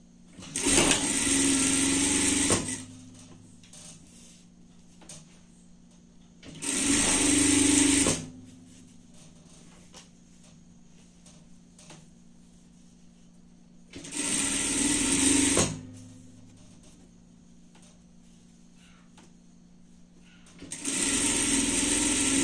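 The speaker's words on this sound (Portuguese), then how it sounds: "Vamos passar uma costura aqui de fora a fora." A domestic sewing machine runs in four steady bursts of a few seconds each, stitching a seam across a reversible girl's party dress, loud and close with quiet gaps between runs and no talking.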